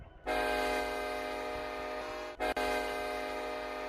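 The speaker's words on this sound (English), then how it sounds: "this is where I'm just going to be testing this horn around here for just a little bit" A loud, steady train horn in the game RO-Scale Sandbox blares a sustained chord, cutting out briefly once before sounding again, close and alone.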